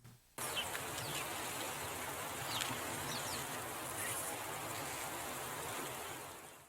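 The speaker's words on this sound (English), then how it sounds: "you can definitely hear some birds chirping in the background there, you can hear some bugs in the grass" Outdoor ambient sample from a free lo-fi sample pack: a steady wash of insects buzzing in grass, with faint bird chirps scattered through, no talking.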